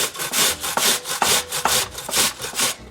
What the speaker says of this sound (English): The first step is to grate our onion and the potatoes.